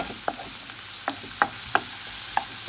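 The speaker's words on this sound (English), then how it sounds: "And I'm frying the onion." Steady sizzling of onion frying in a pan, with a few sharp pops and occasional clicks of stirring, close by.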